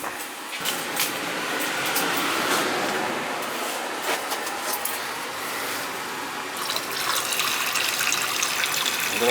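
Water gushes steadily out of an old gas boiler tank as it drains, a loud, close, continuous rushing splash lasting several seconds.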